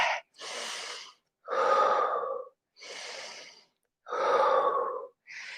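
Deep, audible breaths during a low-impact yoga leg and glute workout: five or six close, loud inhales and exhales alternating in a steady rhythm with short pauses, no talking.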